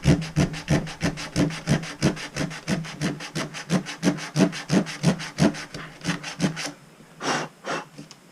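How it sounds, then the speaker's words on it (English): Sanding glue off a wooden paddle by hand: rapid rhythmic back-and-forth rasping strokes, about two to three per second, close and loud, easing off into a few scattered rubs at the end. "Just get it sanded down."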